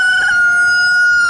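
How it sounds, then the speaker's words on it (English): Roosters crow loudly and close together in a poultry yard, one strong drawn-out cock-a-doodle-doo ringing over a second bird's call. "Everybody started cock-a-doodle-doo at the same time."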